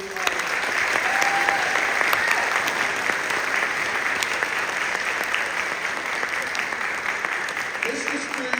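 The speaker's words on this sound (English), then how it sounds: "let's give a clap to them because they work really hard" A high school spring band concert audience claps for the band's non-percussionist students, steady sustained applause filling the hall with voices faintly mixed in.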